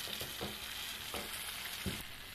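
Protein kajji kayalu snacks frying in hot oil until golden brown, a steady close sizzle and bubbling with a few soft stirring scrapes, no voices.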